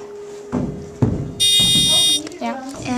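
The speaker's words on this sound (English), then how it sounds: "This is my actual burglar alarm project." A homemade burglar alarm buzzer gives one loud, shrill, steady tone lasting under a second, between clicks of switches and a voice talking nearby.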